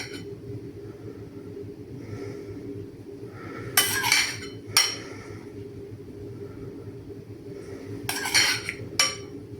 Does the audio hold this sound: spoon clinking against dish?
yes